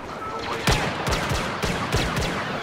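Blaster fire in a Star Wars Battlefront multiplayer heroes-versus-villains match, a handful of sharp zapping shots at irregular intervals over a busy battle background, fairly close and loud.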